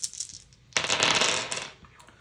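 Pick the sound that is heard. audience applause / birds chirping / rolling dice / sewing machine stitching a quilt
rolling dice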